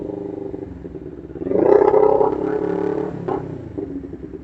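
Motorcycles swell up nearby and rumble past, engines fading gradually afterward, with the quiet hum of a road in the background.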